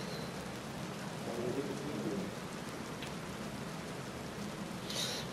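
Rain pours down in the Western video game Red Dead Online, a dense, even hiss that holds steady for the whole stretch with no other sounds standing out.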